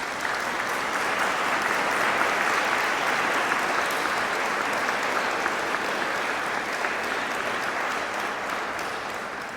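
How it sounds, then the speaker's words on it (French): Steady, dense applause from a church congregation for the organist at an organ blessing service, sustained at even loudness throughout without voices on top. "Je crois qu'on peut l'applaudir si vous voulez bien."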